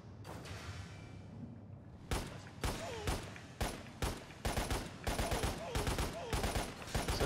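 Rapid bursts of gunfire in the video game Lost Planet crack out in quick succession, starting sparse and building into dense repeated volleys, loud and close.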